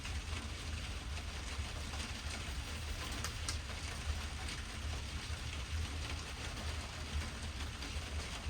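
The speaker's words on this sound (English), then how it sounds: "Oh, that rain is coming down." Steady winter rain pours down over a Scottish garden in a continuous dense hiss with a low rumbling undertone, no voices present.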